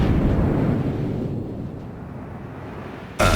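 A warship's gun salvo in World of Warships: a heavy, rumbling boom that decays slowly into a low roar over three seconds, followed by an abrupt new burst of noise at the end.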